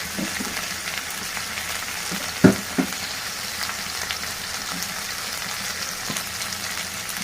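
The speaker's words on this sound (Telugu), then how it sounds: "అల్లం వెల్లుల్లి పేస్ట్, కాలీఫ్లవర్ ఇవన్నీ బాగా పచ్చి వాసన వరకు వేయించుకోవాలి" Cauliflower fries with ginger-garlic paste and turmeric in a pan, giving a steady, moderate sizzle and one sharp clank of a utensil partway through.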